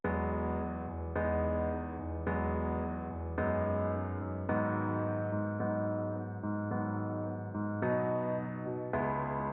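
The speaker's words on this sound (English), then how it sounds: "this is the main piano sound that I'm talking about" Emotional piano melody from a music production project, sustained chords struck in a slow, even rhythm of about one per second, clear and continuous with no voices.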